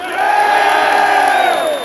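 An assembly crowd cheers and whoops in a loud burst lasting a couple of seconds, many voices rising together and then tailing off.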